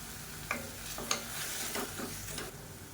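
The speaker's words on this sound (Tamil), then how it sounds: "இது எல்லாத்தையும் நல்லா வதக்கிக்கலாம்" Soft sizzling of tomatoes and onions sautéing in a pan, with a few light clicks of a spoon stirring against the metal.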